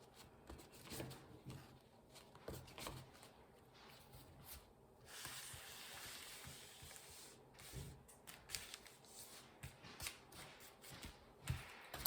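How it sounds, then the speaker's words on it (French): Tarot cards are drawn and laid out for a 13-card spread, their papery shuffling, sliding and snapping close but faint, coming in irregular bursts with brief pauses. "on va regarder ce que nous dit le tirage à 13 cartes"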